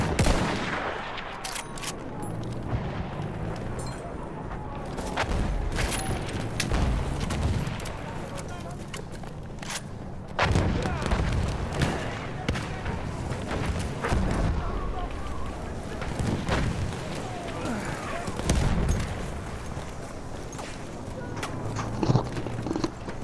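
Battlefield 1 combat with artillery fire and gunfire: scattered booming impacts and cracking shots recur throughout at varying distances over a constant battlefield din, with voices heard now and then.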